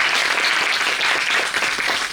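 Applause for the principal at a scholarship disbursement function at a women's college: a continuous, full wash of clapping from a crowded hall, heard alone.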